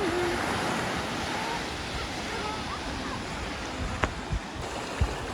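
Ocean surf rolls steadily onto a Phuket beach in Thailand, a continuous wash of breaking waves with some wind buffeting the microphone, plus a few brief thumps near the end.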